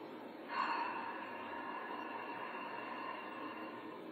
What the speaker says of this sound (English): as you exhale through the mouth, you're going to make an ocean sound